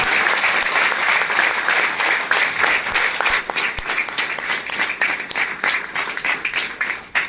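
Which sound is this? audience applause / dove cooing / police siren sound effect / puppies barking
audience applause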